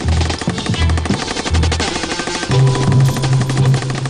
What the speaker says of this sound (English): 20 rounds of tracer from a machine gun, and half of Wiltshire is on fire.